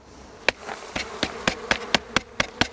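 Honey bees buzz close by at an opened hive, with a steady hum broken by a regular series of sharp knocks or taps about every quarter second.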